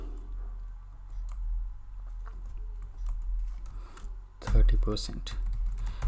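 Computer keyboard keys clatter in scattered quick taps while code is typed, fairly close, with a denser burst of clicks near the end over a low background hum.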